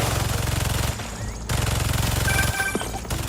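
Turrets in Marvel's Spider-Man 2 firing rapid automatic bursts, loud close rattling volleys broken by short pauses, with electronic beeps in between.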